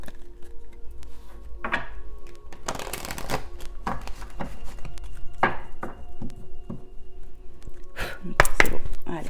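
Tarot cards being shuffled by hand, with repeated riffling bursts and soft thumps of the deck recurring through the stretch, moderately close with faint room tone behind.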